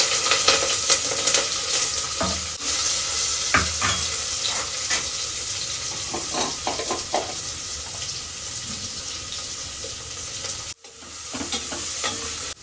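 Beans, fenugreek and cumin sizzling in a pan for khichdi, a loud continuous fry with intermittent stirring scrapes and clatter, briefly cutting out near the end before resuming.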